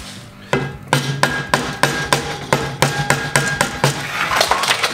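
Sharp hammer blows strike a metal piece clamped to a table to bend it, about a dozen loud, evenly spaced ringing hits close by, no talking.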